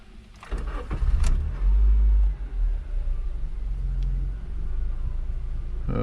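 A Dodge Nitro engine cranks briefly, then catches and fires with a loud low rumble, settling into a steady idle close by.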